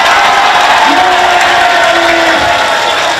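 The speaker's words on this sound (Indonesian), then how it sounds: "Kalau boleh tepuk tangannya seperti anak-anak" A seminar audience claps and cheers loudly and steadily, a thick wash of applause with whoops and shouted voices throughout.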